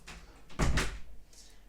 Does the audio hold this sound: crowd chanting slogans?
no